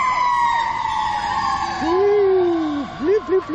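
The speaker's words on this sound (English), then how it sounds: "Chase the fire truck." A fire truck siren wails loudly and sweeps past, its rising and falling tone sliding downward as the truck goes by, then a few short whoops at the end.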